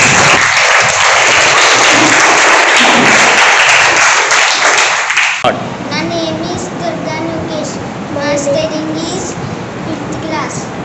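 Audience clapping for a child singer fills the first half as a dense, loud wash of applause, then cuts off abruptly and a voice speaks over quieter room noise.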